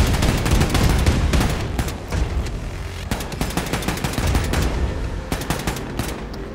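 Rapid machine-gun fire in the video game Wolfenstein II: The New Colossus, loud sustained bursts of shots aimed at an enemy's legs, rattling almost continuously with brief pauses between volleys.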